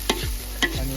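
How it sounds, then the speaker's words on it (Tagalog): Garlic, onion and chili sauté in hot oil, with two quick spatula scrapes against the pan over a constant close sizzle. "nagpainit ng mantika si Chef at naggisa ng bawang"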